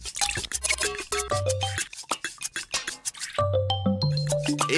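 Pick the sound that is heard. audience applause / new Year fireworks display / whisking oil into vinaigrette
whisking oil into vinaigrette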